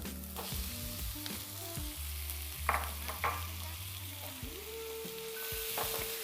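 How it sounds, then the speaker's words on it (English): Peeled shrimp sizzle in a pan for spicy paleo spaghetti noodles, with a constant close hiss and irregular scraping and clacking as the ingredients are stirred and scooped; faint background tones sit underneath. "we're just going to keep stirring, scooping the ingredients, the shrimp, until you see the shrimp turn slightly pink"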